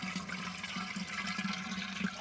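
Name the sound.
tap valve opened, water filling a clay pot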